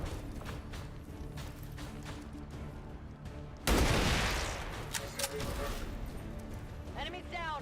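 Gunfire in the video game XCOM 2 breaks out as a loud burst of shots partway through, over a quieter backdrop of game sounds, with a person talking along the way.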